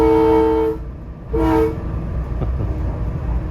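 Atlantic City line train crossing a deck girder bridge near the Delaware Bridge, sounding two loud horn blasts at a distance, the first about a second long and the second shorter, over a steady rumble of the moving train.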